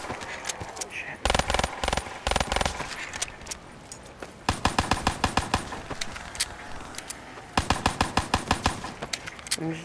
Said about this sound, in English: I'm just using my pistol ammo up here, my stun pistol ammo